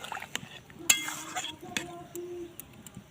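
A spoon or spatula clinks against a pot as ridge gourd is stirred into a Bengali magur fish curry, with a few sharp metallic taps and soft wet scraping between them, close up and otherwise quiet.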